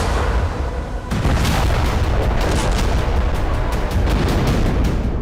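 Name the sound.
heavy explosions in Syria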